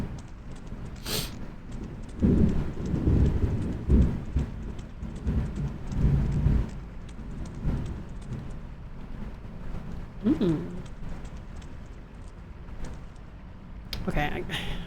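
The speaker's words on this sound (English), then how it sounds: "Thunder, can you chill out, please?" Rumbling thunder in Fatal Frame: Mask of the Lunar Eclipse, low booming swells rolling in and out over steady rain, with a person talking over it at times.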